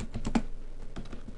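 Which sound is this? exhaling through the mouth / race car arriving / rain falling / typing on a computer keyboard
typing on a computer keyboard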